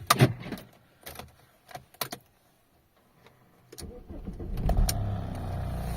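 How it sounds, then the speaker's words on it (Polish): A Volkswagen Passat B5 with climatronic, mid air-conditioning fan replacement, starts up: a few clicks and a short cranking burst, then the engine catches and settles into a steady idle, heard close by. "No, samochód pala normalnie."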